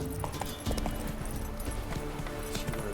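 Roach, the horse in Witcher 3: Wild Hunt, gallops with a quick, continuous run of close hoofbeats over a steady low tonal backdrop.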